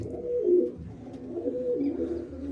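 A pigeon coos nearby in two low, rolling phrases, soft and throaty, with no talk over it.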